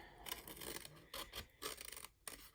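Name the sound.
scissors cutting around a paper stencil outline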